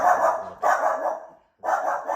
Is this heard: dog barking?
yes